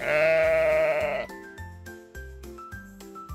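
A sheep gives a long, wavering bleat at close range. After it, a short, plucky melodic tune of repeated notes plays on its own with no talk.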